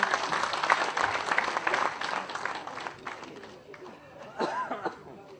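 Applause from a gathered crowd welcoming a guest at a community event, a busy clatter of clapping mixed with chatter and some laughter that tapers off as voices take over toward the end.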